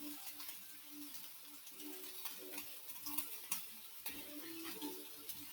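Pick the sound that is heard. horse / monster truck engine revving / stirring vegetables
stirring vegetables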